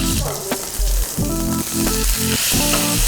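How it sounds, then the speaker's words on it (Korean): A scored pork steak sears in a pan, giving off a steady, loud sizzling hiss with crackling pops, recorded up close with no talking. "돼지고기 구울 때 앞뒤로 2분씩 구워주면 되고요"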